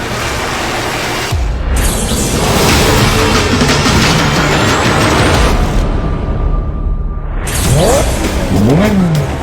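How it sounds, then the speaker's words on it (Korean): Formula 1 race car engine exhaust roaring loud and close, a sustained high-pitched howl with a pass-by whoosh and a sharp rising rev near the end. "자동차에서 울리는 배기음은 온몸에 전율을 일으키고"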